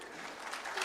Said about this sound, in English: Please, a round of applause for both Michael Foley and say welcome to Professor Michael Sun.